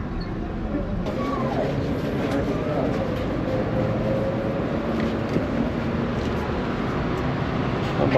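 Tram passing under overhead wires on a New York City street, a steady low rumble of rail and traffic noise running throughout with faint distant voices in the background.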